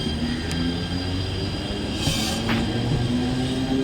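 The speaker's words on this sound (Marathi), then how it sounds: "प्लॅटफॉर्म क्रमांक 4 वर आलेली लोकल" A Mumbai Central line local train pulling into a station platform: a steady loud rumble of wheels and carriages close by, with faint squeals and a few clanks over the rolling noise, no voices.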